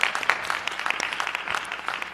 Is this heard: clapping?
yes